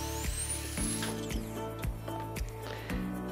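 A dental turbine handpiece with water spray set on a cart with five integrated instruments and touch screen spins up with a rising high whine, while rhythmic mechanical clicks repeat about twice a second underneath, close and steady.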